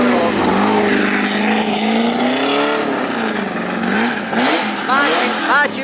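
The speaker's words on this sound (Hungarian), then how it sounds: "Bácsi örül, hogy kicsit brömbögtethet az utcán." A luxury car's engine revs on a street outside an exclusive car show, loud and close, with rising and falling throttle blips and a throaty growl, joined by crowd chatter near the end.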